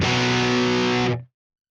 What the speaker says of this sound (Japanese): こちらのオーバードライブはどういったサウンドかというと、こっちより積極的に歪みを作るようなオーバードライブかなとも思いました